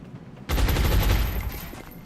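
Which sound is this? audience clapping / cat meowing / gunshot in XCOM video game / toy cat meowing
gunshot in XCOM video game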